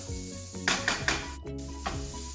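Cumin and spices sizzling in a hot pan, a soft steady frying hiss with a few light clinks and stirring scrapes, no one talking.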